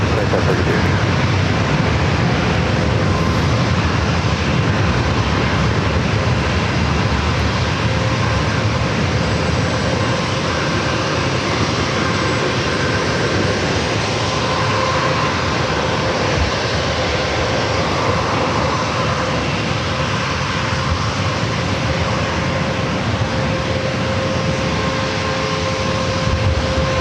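A jet airliner takes off from runway 27 at San Diego airport, a loud, sustained engine roar that holds steady throughout, with faint radio chatter beneath it.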